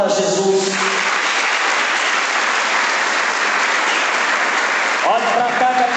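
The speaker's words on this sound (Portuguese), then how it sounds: "Aplauda Jesus." A Catholic congregation applauds during a charismatic sermon, a dense, steady wash of clapping filling the room for several seconds, with a few voices and musical tones briefly audible at the start and end.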